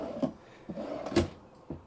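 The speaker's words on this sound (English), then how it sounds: "they're soft close drawers" Soft-close drawers in a Class C RV kitchen, giving a few quiet, muffled thumps and soft slides spaced out over a couple of seconds, close by and with no talking.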